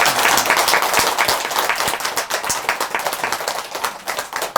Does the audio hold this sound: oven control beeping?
no